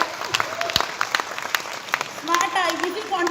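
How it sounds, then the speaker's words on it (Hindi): Audience applause at a business talk event, fairly soft scattered clapping with a voice speaking over it throughout. "तालियां भी बजा सकते हैं।"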